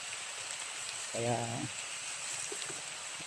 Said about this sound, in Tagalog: lalo na malakas yung ulan